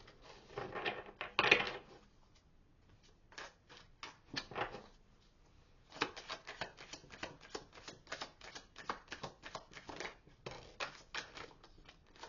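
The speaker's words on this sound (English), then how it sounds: "I shuffle to the end because I always want to see the back of the deck" A deck of oracle cards is shuffled by hand, giving a series of quick, close, crisp card flicks and riffles in irregular bursts, with short pauses between them.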